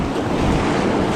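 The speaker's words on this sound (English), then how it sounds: "Big, decent waves here." River rapids churn and splash loudly around a raft on the Wenatchee River in May, a continuous close roar of rushing water and wind with no voices.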